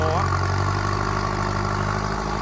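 A turbocharged M75 vehicle engine roars loud and close with its wheels spinning, a sustained heavy drone with a brief rising whine at the start, and some voice sound under it.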